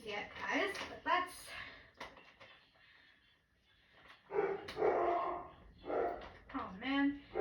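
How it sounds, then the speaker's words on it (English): Dogs bark inside a house in short bursts, loud and close, with quieter gaps between volleys. "That is just my dogs."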